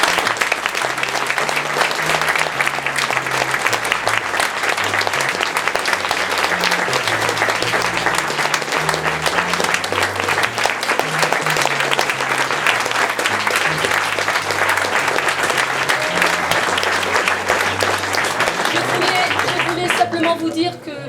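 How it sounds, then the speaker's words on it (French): Theatre audience gives a long, loud round of applause for the director after an amateur troupe's performance of the comedy Le Père Noël est une ordure, dense continuous clapping sustained for about twenty seconds before tapering at the very end. "je vous demande un tonnerre d'applaudissements pour notre metteur en scène, Claudine, qui le mérite vraiment."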